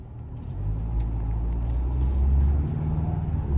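A 2026 Ford Bronco Outer Banks with a 2.3-liter turbo four-cylinder rolls along the road, its steady low engine and tire rumble droning evenly from inside the cabin with no talking.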